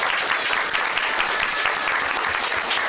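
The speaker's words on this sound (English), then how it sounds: "let's give her a round of applause" Applause at a town council meeting in Edmonston, a steady burst of clapping from a small room audience, lasting a few seconds without a break.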